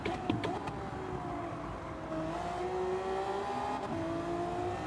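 A Honda race car in Gran Turismo 7 drones along at a steady engine pitch that climbs slowly, with faint keyboard-like clicks and small tire noises mixed in during an online daily race.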